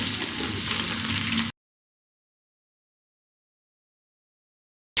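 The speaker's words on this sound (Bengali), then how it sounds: "আমি 2-3 মিনিট এরকম ফ্রাই করে নিচ্ছি।" Chicken pieces for chicken Manchurian fry in oil with a steady, bright sizzle for a second and a half, then silence, and the sizzle briefly returns at the very end.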